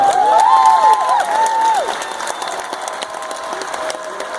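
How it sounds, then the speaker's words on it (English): A large audience applauding at a Special Olympics Virginia honors event, a steady wash of many hands clapping, strongest at the start and easing off slightly, with a thin whistling tone and cheering mixed in. "We can give them a big round of applause."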